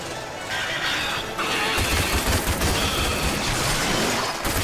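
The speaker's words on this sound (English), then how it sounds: "Machine gun." A machine gun fires in a first-person shooter game: after a short quieter lead-in, a rapid, dense stream of loud, close shots rattles on steadily to the end.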